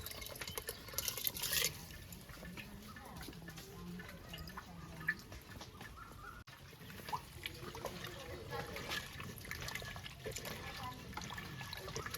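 Raw atop rice poured into water in a cooking pot, a soft wet trickle and patter with some splashing, quiet and close.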